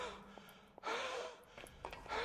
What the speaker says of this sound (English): Who the hell's breathing like that?